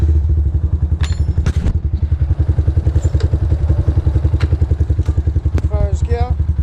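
A Yamaha MT125 motorcycle engine, just fitted with a new clutch cable, thumps at a steady rhythmic idle up close for a test ride, with a few clicks and a brief voice near the end.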